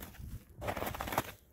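Footsteps crunch through fresh, hard-frozen snow on an open winter field in bitter cold, a short burst of gritty crunches rising and fading, close by and without talk.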